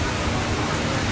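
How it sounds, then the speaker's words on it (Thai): Rain pours down steadily in Rangsit, Thailand, as a dense, loud, unbroken wash of noise with no pauses, lasting about a second. "วันนี้เราก็ติดฝนกันอีกแล้ว"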